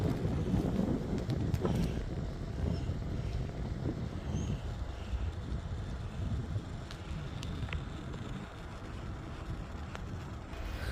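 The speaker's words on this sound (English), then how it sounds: "So the wind's picking up some." Headwind buffeting a microphone while cycling on a trail, a low continuous rumble with gusty fluctuations that persists steadily and fairly quietly for the whole stretch.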